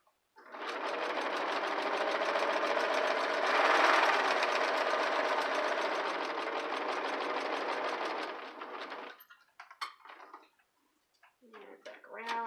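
A sewing machine runs a long, continuous stitching pass on fabric for a candleholder centerpiece, a loud, close, steady buzz for about eight seconds before stopping, followed by a few clicks and a brief voice.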